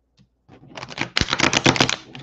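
A loud tarot card deck is riffle-shuffled up close, a quiet tap and then a dense, rapid burst of crisp card flutter for about a second and a half, with no talking.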